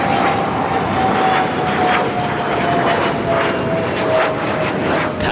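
Boeing 747 jet airliner taking off at LAX, a loud, sustained roar of engines with a thin whining tone that rises and holds, heard from a distance with a steady rumble throughout.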